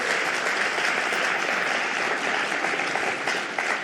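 Sustained audience applause at an improv session on social engineering, a dense, steady wash of many hands clapping at even loudness throughout with no talk over it.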